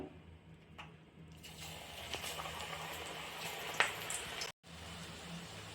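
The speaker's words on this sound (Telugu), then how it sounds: "పకోడా నీళ్ళు అయితే బాగా క్రిస్పీగా వేగుతున్నాయి చూడండి" Spinach and fenugreek leaf pakoras crackling and sizzling in hot oil nearby, a steady frying hiss with a few sharp pops and a brief dropout near the end.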